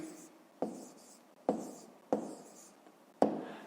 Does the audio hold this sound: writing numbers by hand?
yes